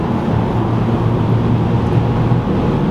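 A steady, loud Ferrari engine drone with a deep low rumble holds throughout, its exhaust heard from close behind on the Autobahn.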